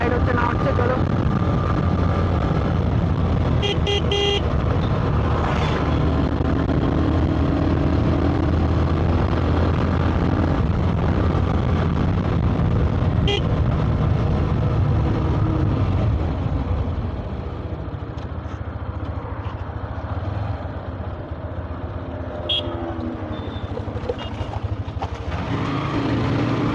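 A Hero Xtreme 125R motorcycle, 2026 model with dual-channel ABS, hums steadily while riding, its engine drone and road noise continuous and close, then easing to a quieter cruise partway through, with a voice speaking briefly over it.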